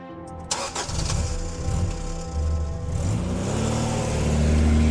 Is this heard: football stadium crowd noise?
no